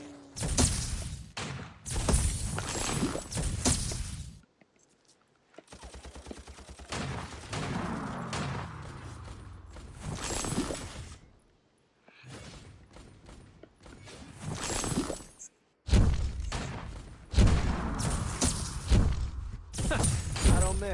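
Six gunshots are fired at a bullseye as a series of loud, sharp bursts separated by brief pauses, with mechanical clicking between them.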